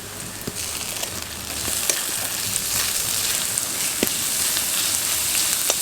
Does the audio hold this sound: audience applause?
no